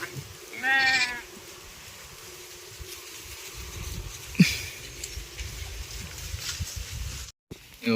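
A single wavering bleat from a sick sheep that is not eating, near the start, fairly close, over steady outdoor background noise in light rainy-season weather, with a faint thump later.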